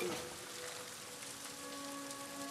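Rain falls steadily in the video game The Last of Us Part II, a soft, dense hiss of drops spattering on surfaces, quiet and continuous with a faint tonal hum underneath.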